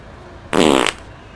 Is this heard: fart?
yes